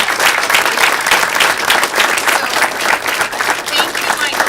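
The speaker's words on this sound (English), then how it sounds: "let's give a big round of applause for Doc for all the work." A university audience applauds students at a fall portfolio performance presentation, dense continuous clapping from a crowd that fills the whole moment at full strength.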